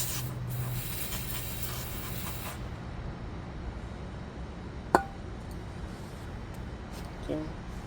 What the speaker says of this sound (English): go ahead and spray our caliper down with some brake cleaner.